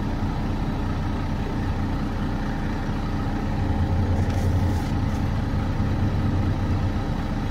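Truck diesel engine running at high idle during an air brake test, a steady loud low rumble that rises in pitch and intensity midway, with no talking.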